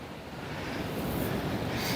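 Strong wind buffets the microphone beside the sea on a wet, stormy day, a steady loud roar with surf-like hiss that swells slightly toward the end, with no voices.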